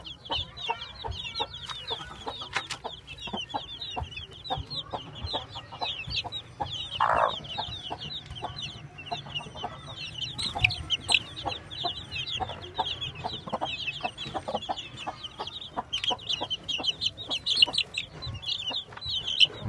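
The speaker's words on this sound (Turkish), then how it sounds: "Bu kızımızın da altında 15 civciv var" A hen clucks in low, soft bursts while about 15 chicks beneath her peep constantly in high, busy chirps close by.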